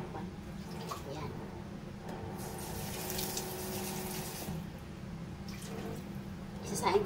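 Water runs steadily for several seconds into a cooking pot, a continuous splashing stream with a faint clink near the end.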